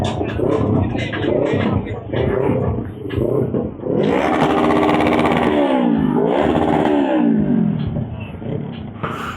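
A small-displacement motorcycle at a large bike meet rumbles, then revs hard in rising and falling sweeps through the middle. Voices are heard alongside the engine noise.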